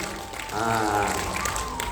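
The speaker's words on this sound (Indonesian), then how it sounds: "Tepuk tangan dulu ya." Audience applause at a large Umrah pilgrimage preparation gathering, a burst of clapping rising at about half a second and filling the rest of the stretch, with a voice addressing the crowd faintly beneath it.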